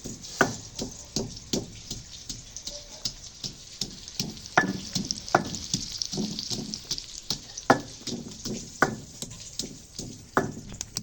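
Chopped onions fry in ghee in a pot for a meat curry in a Pathani village kitchen, giving a steady low sizzle broken by regular clacks from a spoon stirring and scraping the pan.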